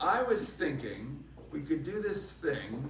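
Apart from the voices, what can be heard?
No everyday noises stand out.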